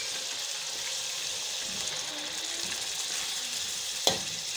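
Chicken pieces, about 1.5 kilograms for charsi karahi, fry in hot oil with a steady broadband sizzle throughout, close and even, with one sharp clatter near the end.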